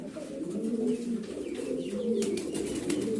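Beauty Homer pigeons, a newly paired female among them, coo in low, throaty rolling calls that repeat close by, with faint chirps and rustling behind.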